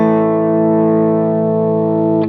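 Electric guitar played with a country tone through stacked compression and delay: one sustained, evenly compressed chord rings out loud and steady for over two seconds before stopping abruptly, with no talking.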